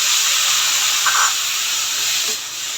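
Water poured onto spice paste frying in a pan for a river fish and taro curry sets off a loud, close steam hiss that holds steady, then eases off slightly near the end.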